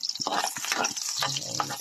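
Chopped garlic frying for garlic fried rice gives a bright, crackling sizzle, with soft clicks and stirring sounds underneath.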